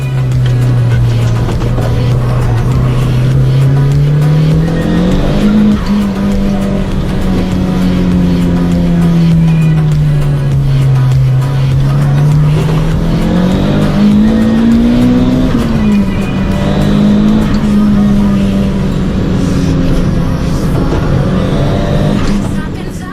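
A tuned Toyota Starlet is driven hard through corners, its engine droning steadily and rising and falling with the throttle while tires squeal intermittently, loud and continuous throughout.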